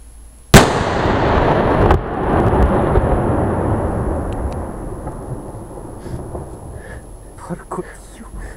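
A single loud handmade 75mm single-shot firework mortar bursts with a sharp boom, followed by a long rolling echo and crackle that slowly fades, with faint voices afterward.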